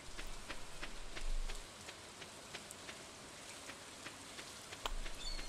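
Steady rain falling on a beach in the Stardew Valley video game, a soft continuous hiss with scattered sharper drops, fairly quiet and with no voices.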